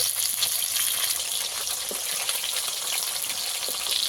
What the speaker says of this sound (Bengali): একইভাবে আমি এই মাছগুলোকেও ভেজে নেব। মাছগুলো উল্টে পাল্টে ভালো করে ভেজে নেব।